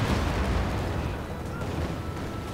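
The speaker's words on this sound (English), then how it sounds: "Nice Katyusha barrage." Katyusha rocket barrage in the World War II strategy game Company of Heroes 2, a dense rumbling roar of overlapping blasts filling the whole short stretch, loud and continuous.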